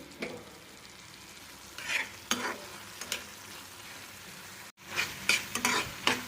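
Chutney ingredients frying in a pan with a steady low sizzle, broken by a few close spoon stirs and scrapes, with no one speaking.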